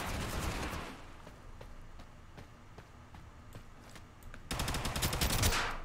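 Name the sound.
gunfire from hip firing in a video game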